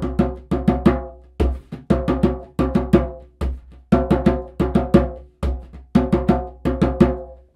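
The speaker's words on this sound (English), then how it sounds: "So I start really basic with the djembe." A djembe plays a basic rhythm in a ternary subdivision, with clusters of three crisp slaps and tones repeating in a steady loop. It is close and dry, with deep bass hits anchoring each group and no voices.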